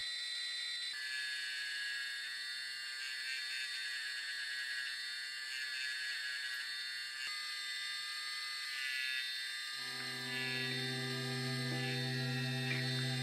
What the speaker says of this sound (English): I'm gonna enlarge these nostrils by grinding the side and front part.